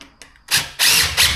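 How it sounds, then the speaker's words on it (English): Cordless drill driving a screw through a window frame into wall framing, two loud bursts of motor whine, the second longer, after a short faint ratcheting click. "Okay, I'm gonna get my screw ready on my drill."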